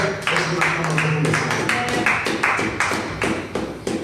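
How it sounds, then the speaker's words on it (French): Congregation at an evangelical worship service clapping in a fast, dense series of sharp claps, close and fairly loud, with little voice behind it. "Donnez-moi de très bonnes acclamations"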